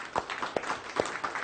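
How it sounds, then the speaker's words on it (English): Scattered hand claps from a small crowd, uneven and fairly close, forming a brief burst of applause. "Round of applause."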